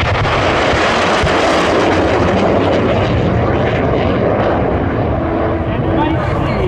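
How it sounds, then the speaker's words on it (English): A MiG-17 jet roars loudly overhead at EAA AirVenture 2023, a dense, sustained engine rumble and whoosh that stays strong throughout, with faint talk underneath. "MiG 17's coming in over the top of the aircraft that just"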